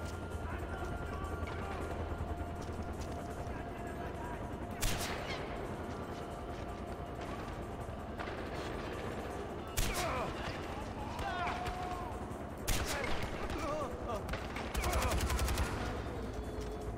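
Sporadic gunshots in the video game Far Cry 4, a few sharp reports spaced several seconds apart over a steady ambient bed, with a brief talking voice.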